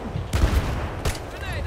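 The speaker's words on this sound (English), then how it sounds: "Everybody's shooting at me there." Gunfire in Battlefield 3 rings out in two sharp bursts, each a loud crack with a low thump, over a steady din of battle noise, with a voice talking faintly beneath.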